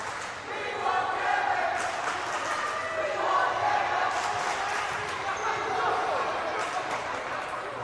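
Crowd in the stands at a high school basketball game between SFHS War Eagles and Lambert High School, a continuous loud roar of voices calling out, with brief swells and no single distinct chant.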